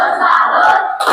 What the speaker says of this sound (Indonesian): kita kasih tepuk salut untuk kelompok 1